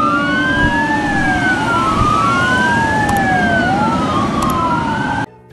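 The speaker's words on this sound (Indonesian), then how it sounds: "Wow, ada mobil truk polisi" A loud, close police truck siren wails steadily up and down, rising and falling pitch repeating, over a rumbling engine, then cutting off abruptly at the end.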